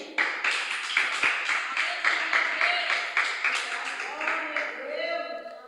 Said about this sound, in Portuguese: e que as palmas louvem ao Senhor